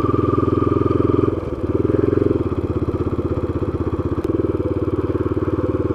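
A motorcycle engine runs close by with a steady pulsing drone through a residential land subdivision in Boituva, easing briefly before revving back up, with a sharp click near the end.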